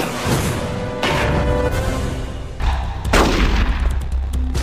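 Revolver gunshots in the video game Metal Gear Solid: The Twin Snakes, loud booming blasts fired in quick succession with echoing tails, layered with rumbling battle effects and no talk.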